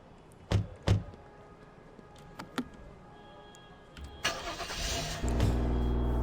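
In the Flashing Lights game, a police car is started: a few door thunks and ticks, then the starter cranks and the engine catches into a steady low idle.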